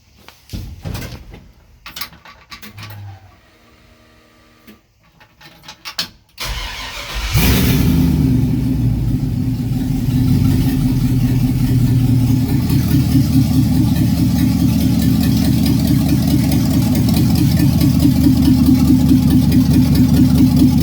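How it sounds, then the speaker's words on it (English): A few clunks and rustles, then a Chevrolet C-10 rat rod truck's 5.3 LS V8, running with no exhaust, cranks and catches, settling into a loud, steady rumbling idle that continues to the end. "see if I can get it to start and idle for just a couple seconds"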